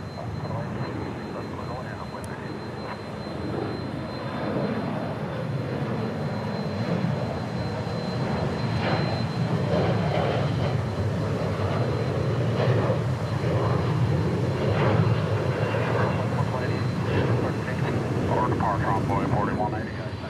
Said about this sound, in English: we check out the C-175 taking off.